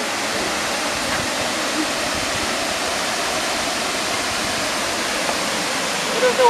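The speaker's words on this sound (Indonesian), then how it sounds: "Itu waterfall." A waterfall gives a loud, steady broadband roar that fills the whole stretch evenly, close and unbroken.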